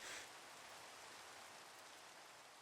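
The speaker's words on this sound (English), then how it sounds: "It's raining again?" Rain falls in the Minecraft video game as a steady, soft, even hiss with no voices, a little stronger at the very start.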